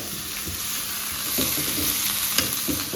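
Steady sizzling of onions frying in hot oil, close and continuous, with occasional scraping and stirring clatter.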